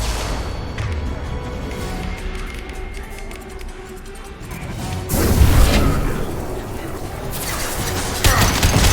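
High-impact weapon shot in the Mass Effect 2 video game, a sudden heavy crashing boom bursting in after a stretch of rumbling battle ambience, then a second sharp impact near the end, loud and close.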